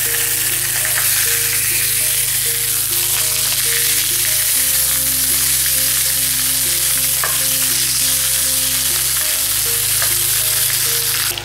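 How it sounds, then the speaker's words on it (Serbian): Pork ribs fry in hot oil in a pan, a loud, dense, unbroken sizzle with constant spattering crackle, heard up close under steady background music and with no talk. "sada spuštamo rebra i pržimo ih povremeno okrećujući dok ne porumene sa svih strana"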